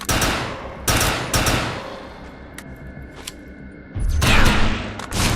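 Gunfire in the video game Defiance: loud rapid bursts at the start, a quieter stretch with faint distant shots, then a heavy sustained volley near the end.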